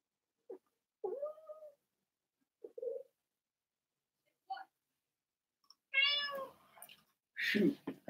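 Cats meow and caterwaul indoors in a string of separate cries that start short and quiet, then grow into longer, louder yowls near the end, with brief gaps of silence between them.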